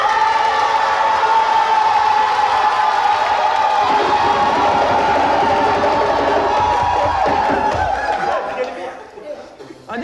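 A television studio audience at an entertainment show erupts in sustained, loud applause and cheering with laughter and crowd chatter, steady for about eight seconds before tapering off.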